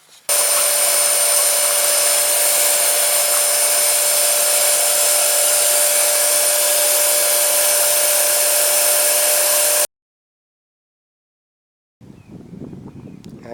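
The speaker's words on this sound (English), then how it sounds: "so I'll try to vacuum" A vacuum cleaner's loud, steady broadband motor roar with a constant whine runs for about ten seconds, cuts to silence, then a quieter hum returns near the end.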